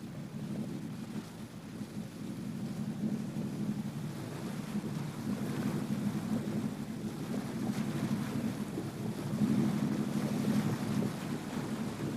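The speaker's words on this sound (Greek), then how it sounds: "Βγήκαμε από το λιμάνι με τον άνεμο στην πρίμη μας." A weathered wooden caique leaves the harbour of Agathonisi with the wind astern, a low steady engine drone and wash of water under gusty wind buffeting, rising slightly toward the end, with no talking.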